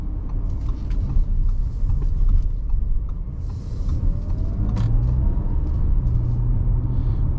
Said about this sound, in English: we'll give it one more half throttle acceleration up here, going up the hill.